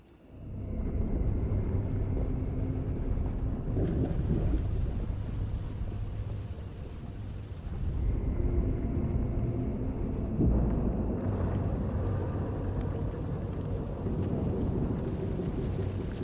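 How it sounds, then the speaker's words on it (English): Starship engines fire up in the Star Wars game Knights of the Eternal Throne: a loud, steady rumbling roar that swells and surges in waves and holds throughout, with no talk. "Firing up the engines"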